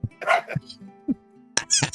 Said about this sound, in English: the dog's even back talking you, Dennis.